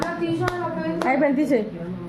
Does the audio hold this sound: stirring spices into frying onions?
no